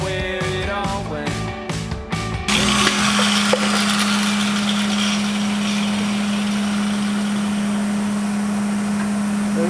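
Saw cutting a split wishbone mount on a budget hot rod build, a few sharp rhythmic strokes at first, then a steady buzzing cut with a constant hum, close and without talk.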